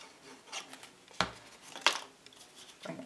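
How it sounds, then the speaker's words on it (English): A bone folder rubs glue-coated paper for a Valentine box, giving a few short, close scraping strokes with quiet pauses between them. "Take my bone folder and give that a rub."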